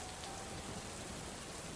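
Steady rain falls in a children's story, a soft even hiss of drops spread evenly throughout with no voices.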